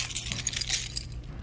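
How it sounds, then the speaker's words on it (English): Keys jangle in a quick, faint metallic clinking burst, close by and brief, with no talking. "Oh, my keys are in the way."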